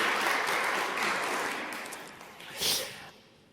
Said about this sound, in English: you get a big round of applause from all our participants here in the